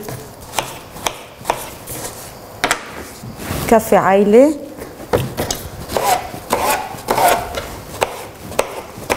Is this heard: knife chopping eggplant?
yes